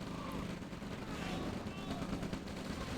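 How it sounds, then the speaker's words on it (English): A unit fires on a light tank in a Red Alert 2 strategy match: dense bursts of rapid gunfire rattle throughout, with commentary talk running underneath. "Oh, no, it's firing on the light tank."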